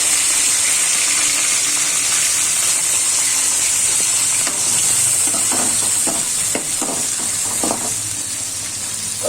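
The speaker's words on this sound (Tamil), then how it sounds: "கடுகு எண்ணெய் போட்டோம். அதுலேயே நான் வந்து கத்திரிக்காய் போடுறேன்." Brinjal pieces sizzle and fry steadily in hot mustard oil at close range, with a dense continuous hiss and a few stirring scrapes in the second half.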